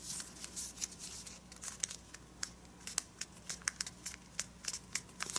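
Square origami paper being folded by hand, with crisp crinkles and sharp creasing snaps coming in a steady run of close, distinct taps over a faint background hum.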